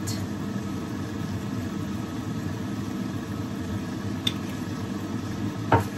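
Frozen shrimp being stirred with salt and seasoning in a pan, a steady low sizzle and rustle running throughout with a couple of brief clinks near the end.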